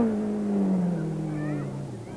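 A 1991 Ford rally car drives through tight bends on a mountain gravel stage, its engine droning steadily and the pitch sliding downward as it slows, heard continuously and fairly close.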